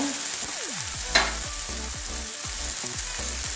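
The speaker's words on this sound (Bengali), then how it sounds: "ভালো করে মশলাটা কষিয়ে নেব" Spice masala with turmeric frying and being stirred in a pan for a Bengali katla fish kalia with yoghurt, a steady close sizzle broken by rhythmic scraping strokes of a spatula and one sharp clatter near the start.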